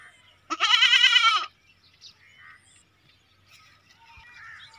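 A goat kid of the Makhi Cheeni breed lets out one loud, close, quavering bleat lasting about a second, then only faint background sounds remain.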